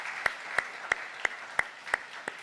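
Slow, evenly spaced claps ring out in a church congregation during a Sunday service as thanks, about seven distinct hand claps in a steady rhythm, moderately loud against a quiet room.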